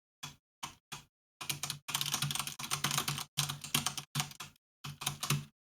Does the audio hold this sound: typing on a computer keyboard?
yes